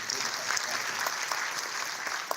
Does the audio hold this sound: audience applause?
yes